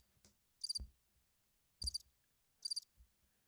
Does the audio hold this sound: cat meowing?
no